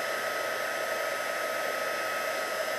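A handheld heat tool blows steadily while melting embossing powder on a card, a constant airy whir with no change in level, close and uninterrupted by any voice.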